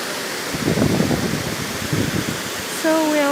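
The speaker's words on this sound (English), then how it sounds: "It is a river sound or waterfall sound, but it sounds like a waterfall." A small waterfall near Geghard monastery in Armenia rushes in a steady broadband roar, close and loud, with a voice speaking over it near the end.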